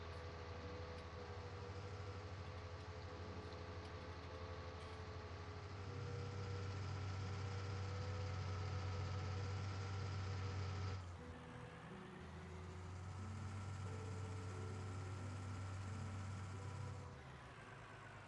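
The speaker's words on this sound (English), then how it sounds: "Here's the train." A low, steady train engine rumble in Farming Simulator 19 drones on for a long stretch, swelling and easing slightly, like a locomotive idling or running nearby; no voices.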